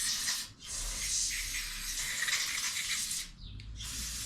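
Parts cleaner sprays in long, steady hissing bursts onto a grimy string trimmer, close and fairly loud, with two brief breaks between the blasts.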